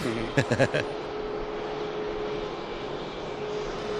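A Ryanair airliner taxis at Manchester Airport, its engines giving a steady, moderately distant roar, with a few brief voice sounds near the start.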